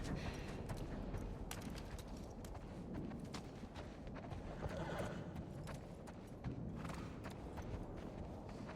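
A horse in the video game The Last of Us Part II, on a snowy trail, stamps and clops its hooves at close range, with a neigh or snort around the middle.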